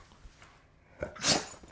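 A single short, sharp sneeze bursts out near the end, close and loud against a quiet room background.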